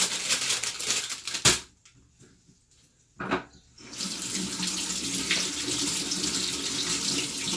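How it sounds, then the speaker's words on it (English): Tap water runs into a kitchen sink while chillies are rinsed for a Chinese chicken dish, a steady broadband splash that briefly cuts out, returns in a short burst, then flows on continuously and loudly to the end. "So I'll wash the chillies off."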